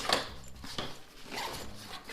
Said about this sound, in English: And also another zipper.